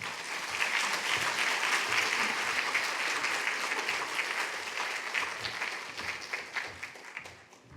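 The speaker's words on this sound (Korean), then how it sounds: "우리 한번 크게 박수함으로 환영하겠습니다" A church congregation claps loudly to welcome guest pastor Park Sang-don at a Sunday service, a steady, full round of applause that tapers off toward the end.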